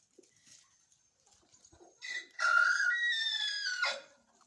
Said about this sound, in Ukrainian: Сьогодні багато курей на двір вийшли.